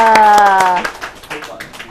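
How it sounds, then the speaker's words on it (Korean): Children and leaders at a summer Bible school training session clap in a short burst of quick, close claps over a sung or called tone, trailing into scattered taps and voices. "박수 나왔습니다"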